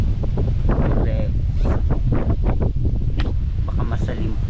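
Strong wind buffets the microphone in heavy, continuous gusts, roaring loudly while people talk underneath.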